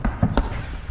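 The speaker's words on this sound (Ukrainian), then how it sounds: "Що це стріляє?" Gunfire on a frontline field, with two or three sharp cracks and thumps in quick succession, fairly loud against rumbling background noise, and no voices over them.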